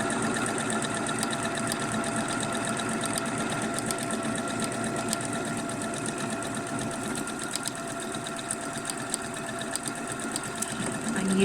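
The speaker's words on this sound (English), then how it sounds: "I'm just going to set to a regular buttonhole and do my buttonhole in this spot here" A sewing machine stitching a buttonhole in white thread on pyjama shorts, its needle running in a fast, steady mechanical whir close by without pause.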